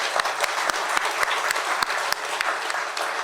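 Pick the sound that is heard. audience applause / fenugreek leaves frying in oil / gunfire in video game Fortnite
audience applause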